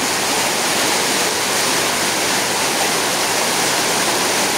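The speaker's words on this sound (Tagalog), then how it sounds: "Baha na dito." Floodwater from heavy rain rushes past in a loud, unbroken roar, a dense steady wash of water with no pauses and no voices audible over it.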